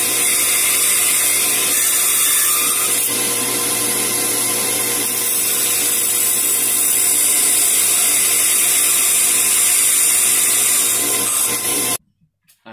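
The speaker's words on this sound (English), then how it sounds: "Now I'll just finish up the cut on the bandsaw, which is a lot safer." A bandsaw cutting through aluminum, running as a steady, loud grinding rasp for about twelve seconds before stopping abruptly, with no talking.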